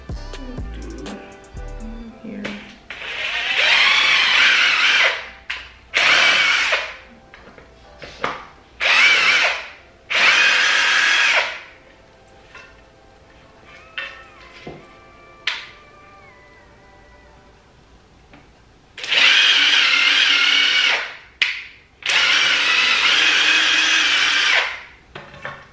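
A power drill whirs in several bursts of a few seconds each, loud and close, separated by quiet pauses.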